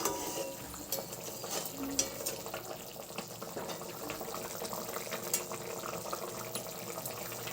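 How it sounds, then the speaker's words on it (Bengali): Water pours into a pan of mushroom curry, a continuous splashing, gurgling rush heard close and fairly quiet throughout, with faint sizzling underneath. "জল ঢেলে দেব।"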